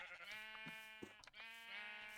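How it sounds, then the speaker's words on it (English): Sheep in the Minecraft modpack FTB Interactions bleat in two or three quick, close, clear calls with a brief pause between, no talking over them. "oops, all black sheep."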